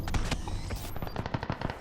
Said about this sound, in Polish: nie wiem skąd on do mnie strzelał